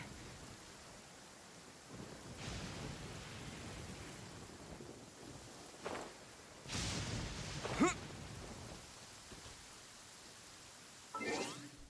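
A heavy downpour in Genshin Impact hisses steadily, with several louder rushing swells and a low rumble breaking through; no one speaks.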